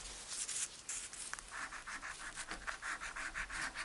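A coin or fingernail scratches steadily across blackjack scratch-off lottery tickets, a close, continuous rasping scrape in quick repeated strokes, with no talking.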